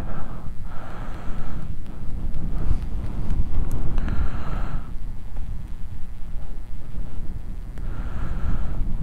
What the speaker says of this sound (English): It's a shame about that wind.